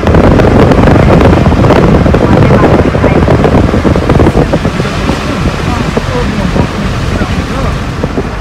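Wind and rain sweep through Dumre bazaar in Tanahun, buffeting the microphone with loud, rushing noise that eases slightly toward the end.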